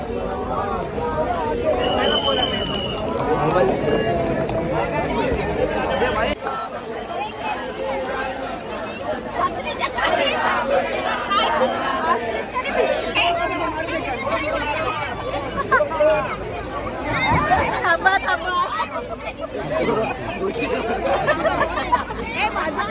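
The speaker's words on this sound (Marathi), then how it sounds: "गर्दी बघा किती इथे आहे" Dense crowd chatter and babble at a Ganesh idol immersion festival in Indirapada, Thane, a loud continuous hubbub of many voices with movement and shuffling throughout.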